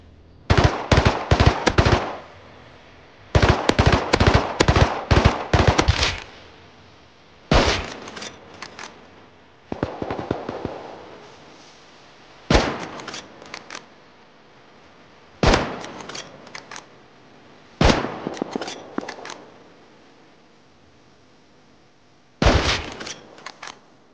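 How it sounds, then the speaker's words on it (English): Gunfire from the survival video game Rust, heard as repeated loud bursts of rapid automatic shots separated by short pauses, with some single cracks mixed in, and no talking. "I heard a bunch of gunfire by Oddworld's base."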